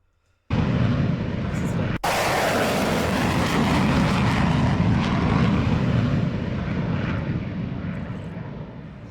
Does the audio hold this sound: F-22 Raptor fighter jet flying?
yes